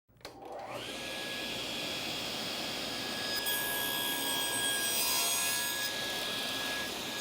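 A table saw, fitted with a jig that steadies the workpiece, cutting a slot into the end of a wooden piece: the motor spins up, then a steady loud whining roar with a high blade tone continues for several seconds, close up.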